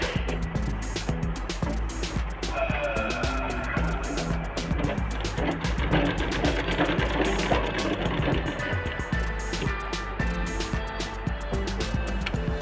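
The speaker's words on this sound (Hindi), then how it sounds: "आपके पास सिलाई है तो सिलाई चला दीजिए, हम यहाँ से सिलाई चला के आपको दिखा रहे हैं।" A sewing machine stitching a katori blouse, running with a fast, steady mechanical clatter close by from start to finish, with no clear voices.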